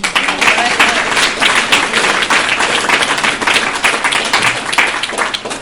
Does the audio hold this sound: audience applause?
yes